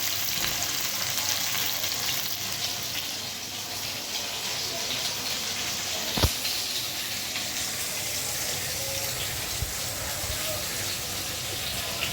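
Potatoes frying in a pan after chhana pieces were fried, making a continuous low sizzle with a faint hiss, a single sharp knock partway through and small clinks near the end.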